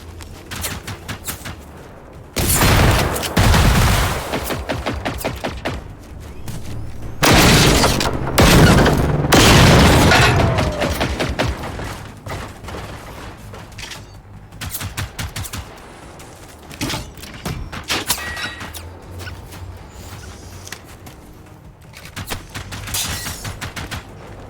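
Bursts of gunfire in the video game Generation Zero, with loud sustained volleys near 3, 8 and 10 seconds and scattered shots in between, near and sharp against a low rumbling background.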